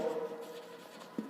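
Chalk or marker writing on a board during a physics lecture, brief soft scratchy strokes with a small tap near the end, quiet and close.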